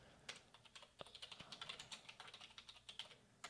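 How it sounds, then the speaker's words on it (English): Rapid typing on a computer keyboard, a quick run of soft close-up key clicks in an uneven rhythm, quiet and continuous with no voice. "So I'll type this out for you guys here."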